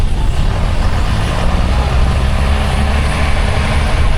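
A Series 1 Land Rover with a 220 diesel engine pulls away at a steam rally. The diesel drone is loud, close and steady, with a dense low rumble throughout.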